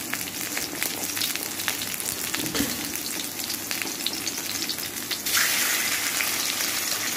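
Rohu fish pieces frying in hot oil in a pan, a dense, steady close sizzle that grows louder and brighter partway through, with no voices.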